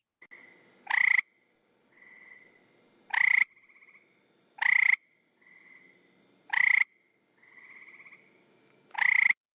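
Small sticky-toed West Virginia frog calling nearby, a loud sharp trill repeated five times at irregular intervals of about two seconds, with softer thin trilling calls between them over a quiet night background.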